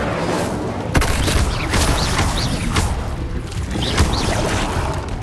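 Incendio fire spells in Hogwarts Legacy combat produce a dense run of loud crackling bursts and booms with sharp impacts near the start and middle, a busy, close battle texture without speech.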